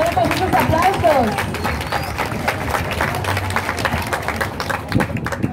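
Applause and clapping from students at a school year opening ceremony greet a teacher, sustained crowd clapping mixed with babble and a voice over the top.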